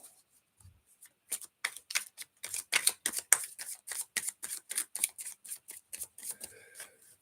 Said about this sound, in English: I do a shuffle.